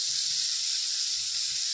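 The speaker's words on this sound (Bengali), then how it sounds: "চিংড়ি মাছটা ভাজতে দিয়েছি" Prawns frying in a small amount of oil give off a steady, even high sizzling hiss with no pauses, moderately quiet and close.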